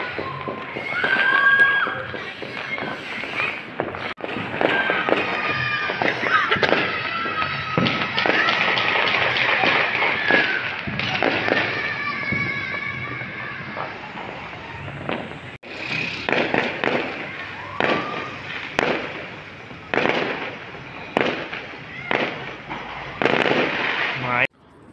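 Repeated sharp bangs and crackling pops from New Year fireworks, firecrackers and gunfire across rooftops in Karachi, some near and some farther off, irregular bursts continuing alongside talking voices.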